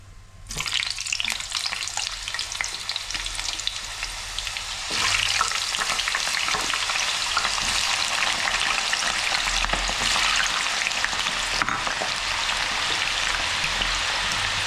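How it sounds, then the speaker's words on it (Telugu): Potatoes frying slowly over low heat in a pan for a potato curry give a steady, close, crackling sizzle that holds throughout and swells slightly louder partway through, with no talking. "చక్కగా సిమ్లో పెట్టి నిదానంగా వేపుకుంటే"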